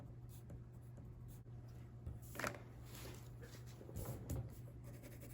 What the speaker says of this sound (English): Here I'm just putting some lines on my front of my castle to make it look kind of like stone or brick